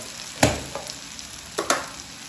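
Garlic and onion frying in hot oil in a home kitchen pan for a quick Kathiyawadi-Punjabi sabzi, with a steady low sizzle and two sharp bursts of hissing as pieces are stirred, close and without talk.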